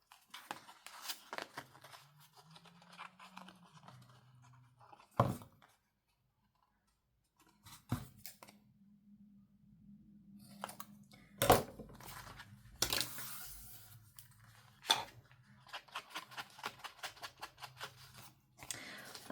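Scissors snipping the corners of a paper lace tag, giving scattered sharp cuts and clicks with brief pauses and faint handling noise; no one talks.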